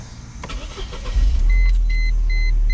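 A 1998 Mercedes-Benz SLK 230 engine rises from idle into a loud, steady acceleration drone, close up, with a few faint electronic beeps over the rumble and no talking.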